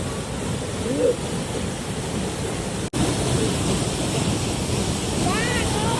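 Water pours steadily at Bagawas Falls, a dense, even rush of falling water that fills the scene from start to finish, with a brief dropout midway and faint voices beneath the roar.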